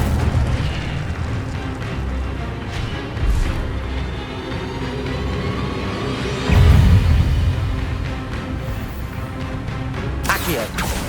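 Incendio fire spell blasts in the video game Hogwarts Legacy: a loud, low rumbling burst erupts in the middle over continuous combat noise, with another sharp flare near the end.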